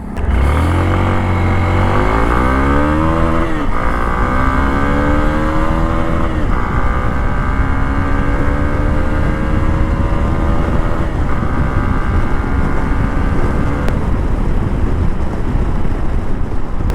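A Hero Xpulse 200 4V motorcycle engine pulls hard through the gears, its pitch rising repeatedly between shifts, loud and steady under heavy wind rush.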